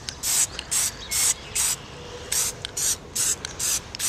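Plasti Dip sprays from an aerosol can onto a Jeep grill in about nine short hissing bursts with brief pauses between them, close and fairly loud, with no one talking.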